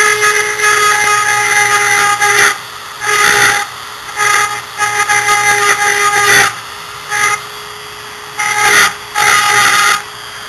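A loud, high-pitched Dremel rotary tool whines in repeated bursts, cutting an indentation into a basement board, cutting in and out with short pauses between passes.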